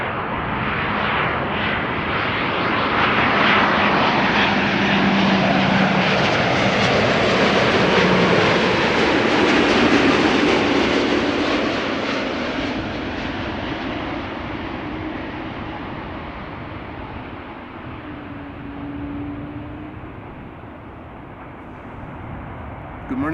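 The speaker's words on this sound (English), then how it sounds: "TUI Dreamliner up next, arriving from Oranjestad, Aruba." A TUI Boeing 787 Dreamliner airliner arriving at Amsterdam Schiphol after a long-haul flight from Aruba, its broad jet roar swelling loud and steady as it passes close, then slowly fading, with faint talk in the background.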